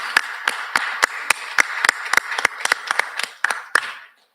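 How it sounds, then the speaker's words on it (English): Claps from a small audience at a student election candidate Q&A, about fifteen sharp distinct hand claps at a fairly steady rhythm over four seconds, close and clear, tapering off at the end. "We'll give them a round of applause in just a minute"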